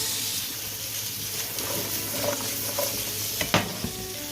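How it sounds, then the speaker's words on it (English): Sautéed carrots and sugar snap peas are stirred in a sizzling pan, with a continuous frying hiss plus scraping and clattering from the stirring and a sharp knock near the end. "Let's give the carrot snap peas a little bit of a mix."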